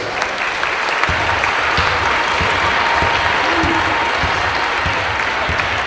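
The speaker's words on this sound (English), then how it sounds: "please join us in giving a big round of applause to our game officials" A basketball crowd in a gym claps for the game officials, dense sustained applause filling the hall at full volume with no pauses.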